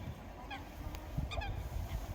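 A large long-legged bird calls outdoors, a few short honking cries in quick bursts, fairly distant, over low background rustle.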